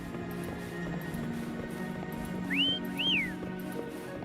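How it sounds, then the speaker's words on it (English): Two rising-and-falling whistles, close and clear, used to call a horse in a video game, over a low ambient background hum. "Try whistling."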